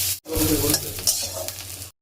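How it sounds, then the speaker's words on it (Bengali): Medium-sized onions fry with cumin in a pan with oil, giving a continuous bright sizzle with stirring scrapes, broken by one short pause near the start and cut off abruptly at the end. "পেঁয়াজগুলো দেখুন খুব সুন্দর ভাজা হয়ে গেছে"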